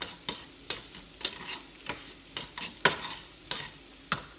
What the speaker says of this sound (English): I'm gonna mix and cook that green onion just a little bit.